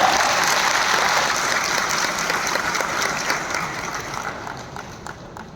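Dense, sustained audience applause welcomes an official at a state-level education seminar, loud and steady throughout before slowly tapering toward the end.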